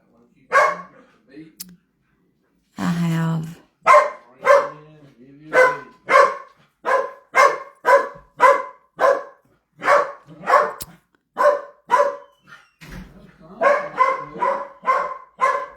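A dog barks in a long series of sharp, regular barks spaced about half a second apart, loud and close, with a short burst of whimpering early on and a quicker cluster of yips toward the end.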